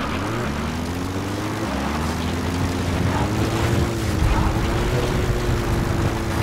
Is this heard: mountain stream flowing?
no